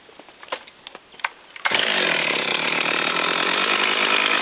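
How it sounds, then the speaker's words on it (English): A chainsaw cuts into the trunk of a giant tree in a forest. A few sharp knocks come first, then the saw roars up abruptly and screams loud and steady at close range. "a worker wearing protective gear, holding a chainsaw, was cutting into the trunk of a giant tree"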